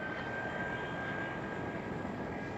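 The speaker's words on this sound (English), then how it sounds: "Right here goes a Turkish Airlines A330" A Turkish Airlines Airbus A330 jet passes at Amsterdam Schiphol airport, a steady distant engine roar with a faint whine that holds evenly throughout.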